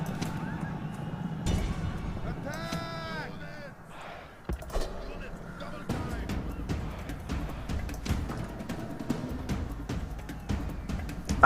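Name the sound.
cavalry horses running in Rome: Total War video game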